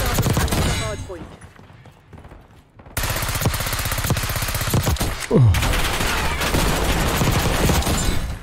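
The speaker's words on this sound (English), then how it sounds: "That guy's literally just shooting." Rapid bursts of automatic gunfire from a Black Ops 6 multiplayer match, loud and sustained across most of the clip after a quieter stretch, with heavy repeated shots and a sharp effect near the middle.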